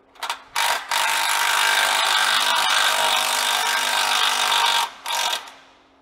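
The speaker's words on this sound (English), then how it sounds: "remove this bolt again" Steady, loud mechanical whirring of a power tool backing a bolt out of a Jeep JL Wrangler inner fender, running continuously for about four seconds between short bursts at the start and end.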